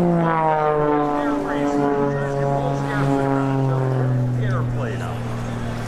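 An Extra 300 aerobatic propeller airplane drones loudly overhead at an air show, with a sustained engine tone that rises and falls as it rolls and maneuvers, with a voice faintly under the engine noise.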